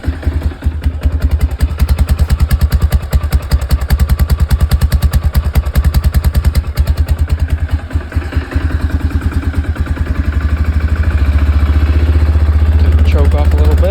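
A cold engine runs loud and close during carburetor adjustment, its rapid, uneven firing pulses chugging steadily, then the tone rises and smooths toward a higher, fuller drone.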